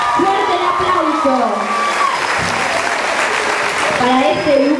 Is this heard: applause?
yes